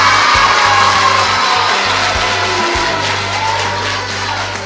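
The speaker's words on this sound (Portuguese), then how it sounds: "Eu quero muitas palmas para eles" An audience claps for two football players, a dense, loud wash of applause that holds steady and tapers slightly toward the end, with no voices over it.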